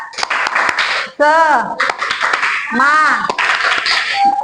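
Children join in the tepuk semangat chant in a classroom, loud bursts of group clapping alternating with voices chanting in unison in a patterned rhythm, with a teacher's voice between the claps.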